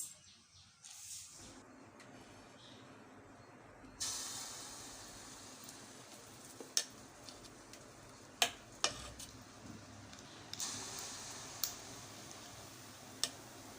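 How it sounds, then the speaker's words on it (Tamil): Sweet appam batter made from maida deep-fries in hot oil with a continuous soft hiss and bubbling, and a few sharp ticks and clinks of a utensil. "இப்போ நம்ம இதை எண்ணெயில் போட்டு எடுத்துடலாம்."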